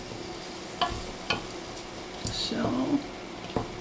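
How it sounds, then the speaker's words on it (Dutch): A low steady sizzle of tomato paste frying in a pan for lentil soup, with a few clinks and stirring scrapes and a brief word spoken in Dutch. "Allemaal even lekker bakken."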